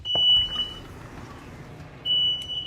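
Two long, piercing high-pitched smoke detector alarm tones sound close by in a kitchen, separated by a short pause.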